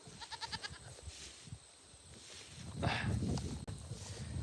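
Goats bleat in tall grass, giving a pulsing series of nasal calls at the start, followed by rustling footsteps through the grass and a louder brushing swish, heard fairly close.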